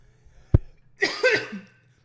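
A single sharp cough, close and abrupt, followed by a short rough exhale with a throaty rasp, then quiet.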